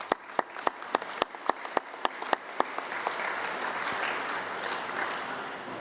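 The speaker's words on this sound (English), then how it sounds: "Please give yourselves another round of applause." Audience at a school district convocation ceremony, starting with a few loud, evenly spaced claps that quickly swell into broad, steady applause from the whole room.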